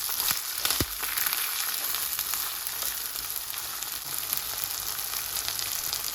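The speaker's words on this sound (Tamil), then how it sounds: "வெங்காயம் தாளியத்தோடு சேர்ந்து வதங்கி வருது" Chopped onions and curry leaves sautéing in a tempering of hot oil for beans curry, a steady close hissing sizzle throughout with a few light stirring knocks near the start.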